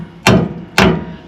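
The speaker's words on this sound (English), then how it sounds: "I'm just going to take my hammer and gently" Two sharp, loud hammer taps spaced about half a second apart, a hammer driving a brake line clip into place on the rear axle of a 1977 Ford F150 during a rear brake job.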